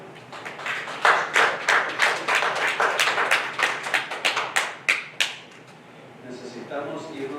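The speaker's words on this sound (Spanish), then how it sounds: "no ofrenda de palmas al Señor" A church congregation claps hands in praise during a sermon, a steady rhythmic run of many hands clapping together at moderate loudness that stops abruptly near the end, leaving quiet room tone.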